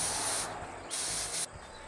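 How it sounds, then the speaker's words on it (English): Compressed-air spray gun with its fan control valve adjusted, giving two loud bursts of hissing spray separated by short pauses, close and clear with no talk. "The fan control regulates the pattern of the spray."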